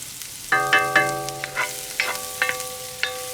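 Onions softening in a hot pan with garlic, giving a steady low sizzle under sharp metallic clinks and ringing tones from a utensil striking the pan at irregular intervals.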